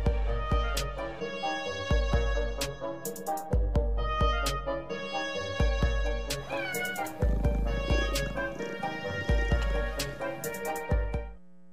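A cat meows repeatedly in short, fairly evenly spaced calls over about twelve seconds, clear and close, with no talk.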